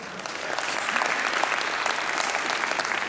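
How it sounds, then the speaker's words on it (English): Steady applause from a large audience filling an 1,800-seat theater at a film festival screening, dense and sustained at an even level throughout with no voices breaking through. "And give yourselves a hand"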